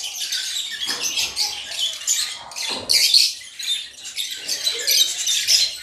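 Pet cockatiels and a lutino pair calling in cages, with bursts of shrill chirps and squawks close by, broken by short pauses.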